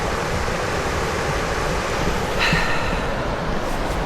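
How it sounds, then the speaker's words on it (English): Coastal water washes steadily along a shore, a broad, continuous hiss of waves and surf with light wind noise and no talking. "Oh, it's lovely listening to the sound of the water."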